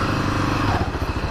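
A motorcycle engine sputters and bogs up close, its uneven, stumbling putter pulsing loudly for just over a second.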